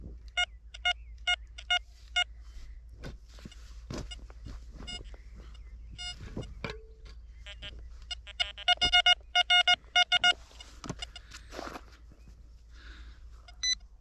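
Metal detector signal tones over a buried target, sounding as clusters of short electronic beeps of varying pitch that come in irregular bursts and grow busier and denser toward the end, with scraping and handling noise underneath.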